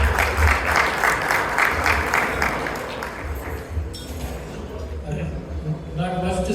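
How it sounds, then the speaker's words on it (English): Audience applause for a speaker at an Indian Congress Party victory celebration in Chicago, a dense clapping wash that fills the first half and then thins as a voice begins talking over it. "I want to introduce for him, with a big round of applause."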